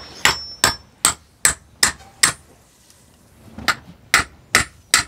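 A hammer strikes repeatedly while curtains are hung in a home, about ten sharp, close knocks in two bursts with a short pause between, loud and clear against a quiet room.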